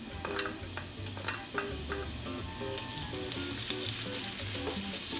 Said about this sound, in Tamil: சட்டி சூடாயிட்டு கொஞ்சம் எண்ணெய் ஆட் பண்ணுவோம். வெட்டின வெங்காயம்